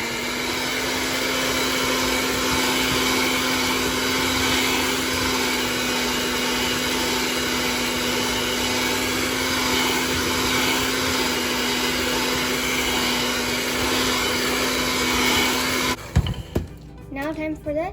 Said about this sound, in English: First add 1 egg and then whisk it.